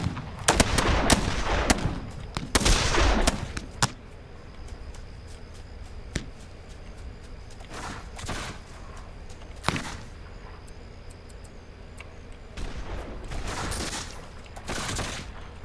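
Video game gunfire as a player's settlement comes under attack, several loud bursts of shots and sharp cracks in clusters, separated by quieter gaps with scattered distant single shots, no talking over it.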